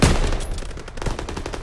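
Rapid bursts of machine gun fire in Call of Duty: WWII rattle continuously, loud and close, with overlapping shots and a crackling, sustained intensity.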